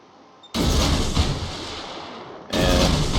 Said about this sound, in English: I am throwing out some preemptive torps in what I consider the likely heading of an approaching enemy destroyer